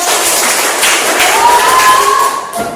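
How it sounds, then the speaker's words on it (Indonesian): A school classroom claps for a student group, a loud, close burst of mixed hand claps and light taps that holds steady and then drops off near the end. "Tepuk tangan untuk kelompok kami."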